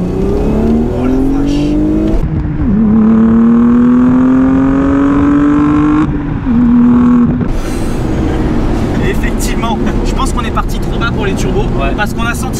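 A four-wheel-drive sleeper car accelerates hard in second gear, engine rising in pitch through a long loud pull, then shifting to lower rumble. People talk over it inside the cabin.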